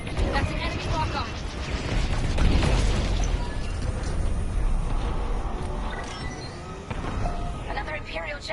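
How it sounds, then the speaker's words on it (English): An Imperial jammer blown apart in Star Wars: Squadrons: a heavy, sustained explosive rumble with crackling debris and mechanical rattles that tails off gradually, while voices talk over it. "Another Imperial jammer destroyed."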